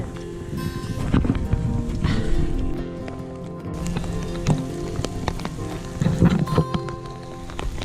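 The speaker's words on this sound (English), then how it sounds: "At the moment we're having hail and thunder." Hail and rain fall during a thunderstorm in Spain, a dense, steady patter of close impacts on surfaces with brief louder clusters.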